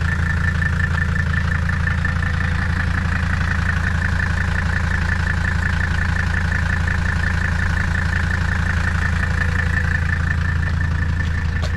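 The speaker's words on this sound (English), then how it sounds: "still one of my favorite sounds of an engine" The diesel engine of a 1985 Mercedes W123 300 TD idles close by, loud and steady with a rhythmic low chugging clatter and constant hum throughout, no talking.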